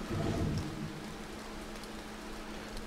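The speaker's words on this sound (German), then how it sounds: "Ich mag Regen lieber, wenn er durch mich statt auf mich fällt." Steady rain falls in the video game To The Moon, a soft continuous hiss with a low rumbling undertone, heard alone without talk.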